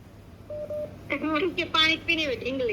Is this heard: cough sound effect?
no